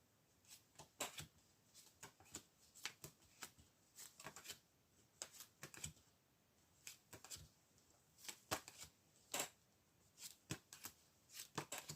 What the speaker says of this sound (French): on va essayer de tirer des cartes